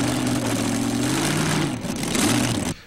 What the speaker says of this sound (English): as we watch the engines on Mr. Twister being primed